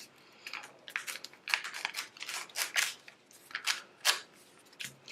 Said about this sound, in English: So all you'll need to do is just carefully tear the paper out.